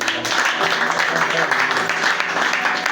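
A church congregation applauding the Lord during a worship service, with a dense, continuous burst of clapping from many hands, loud and close, mixed with voices.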